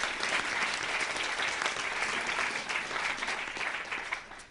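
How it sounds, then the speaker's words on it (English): Enthusiastic audience applause at a seminar, dense rapid clapping that holds steady and then gradually thins and fades toward the end. "Give her a round of applause"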